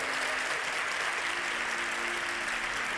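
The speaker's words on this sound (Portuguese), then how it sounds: "aplaudam o Senhor com toda a sua força" A congregation at an evangelical church service led by Tiago Brunet applauds in a steady, dense wash of clapping that holds at an even level throughout, with no voices standing out.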